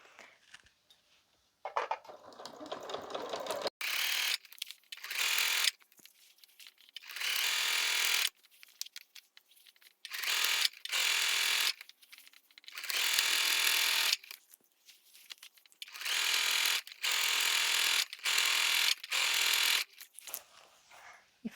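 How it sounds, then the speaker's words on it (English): A sewing machine runs a straight stitch in the ditch along a fall panel quilt, whirring in roughly eight short bursts of a second or two each, with brief quiet pauses between them. "my sewing machine settings are on a straight stitch, and we're just gonna sew on a stitch in a ditch"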